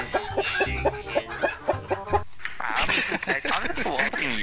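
A chicken in the video game CS:GO clucks in a quick rhythmic series of short calls, followed by a burst of louder squawking and commotion, fairly close and loud.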